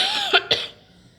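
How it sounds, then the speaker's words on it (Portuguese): Two sharp, close coughs in quick succession from a person who has a cough, with no talking around them. "Eu tô com tosse."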